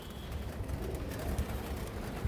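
A large pigeon of a high-flying racing line coos faintly and low among other birds, a soft murmuring rumble running steadily without speech.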